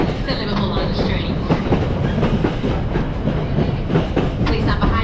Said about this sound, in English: the train arriving on platform 14 for 15:37, Eastern Railway service to Liverpool Line Street